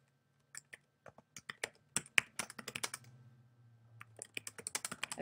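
Quick, faint keystrokes on a computer keyboard come in short irregular bursts, with a louder tap near the middle, and no voices.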